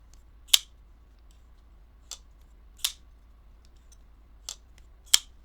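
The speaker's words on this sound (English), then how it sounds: "Very noisy knife." Trivisa Phoenix folding knife with an S35VN blade flipped open and shut, five sharp metallic snaps spaced about a second apart, close and crisp against a quiet background.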